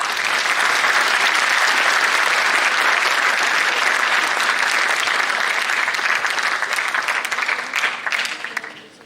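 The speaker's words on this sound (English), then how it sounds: "Let's clap for them." A large conference audience claps steadily for visiting university delegates from Japan, a loud, dense wash of applause that holds for several seconds before thinning out near the end.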